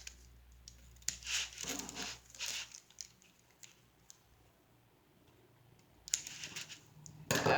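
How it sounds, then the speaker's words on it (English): Scissors snip the corners of a diamond painting canvas, a few brisk crinkly cuts and rustles of the stiff sheet, close and fairly quiet, with longer pauses between bursts. "It's not really framing, but just cutting the corners here."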